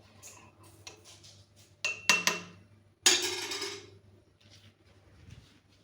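A spoon clinks against a cup while stirring everyday tea, giving a few quick light taps followed by a brighter burst of metallic clinks, all quiet and close.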